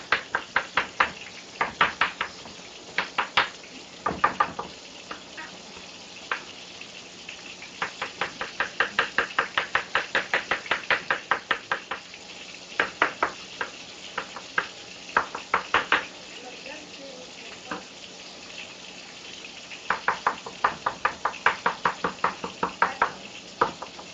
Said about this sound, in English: Now I'm just going to get a really rough cut on these things.